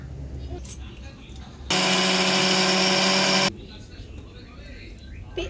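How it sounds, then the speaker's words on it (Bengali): A blender grinds chilli, red lentils and Gobindobhog rice into a paste in one loud, steady burst of just under two seconds, between quieter kitchen stretches. "লঙ্কা, ডাল, মুসুরির ডাল আর গোবিন্দভোগ চাল পেস্ট করা হবে।"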